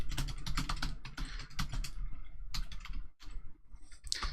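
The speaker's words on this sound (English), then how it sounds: "let me just type in The Invitation here" Computer keyboard typing at close range, quick bursts of clicky keystrokes with a brief pause and a few scattered final taps.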